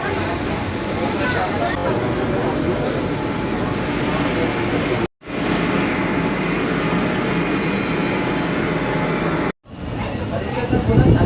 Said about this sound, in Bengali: ট্রেন চলে এসছে, ট্রেনে উঠে পড়বো।